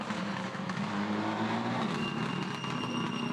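A Subaru Group N rally car on a special stage of a European Rally Championship event, its engine heard at moderate distance with a steady drone that rises and shifts as it approaches, alone without commentary.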